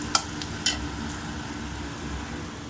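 Potato fry with ginger garlic paste is stirred in a pan, two quick scraping strokes over a soft, steady sizzle of frying.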